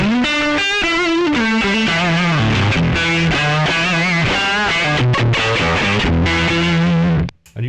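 Electric guitar solo played through a Mosky Classic AC-30 amplifier with distortion stages cascaded together, a loud sustained lead line of bending, held notes running continuously before a brief cut near the end.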